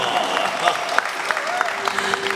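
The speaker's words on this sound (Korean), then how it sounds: "자 여러분 다시 한번 큰 박수 함께 보내주시기 바랍니다." Applause from an audience, a steady patter of many hands clapping at moderate volume, with a few sharper claps standing out.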